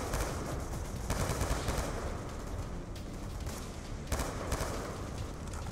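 Sustained automatic gunfire from a gun in Call of Duty: Black Ops 2, loud steady rattling with brief pauses and a few heavier bursts, no talking.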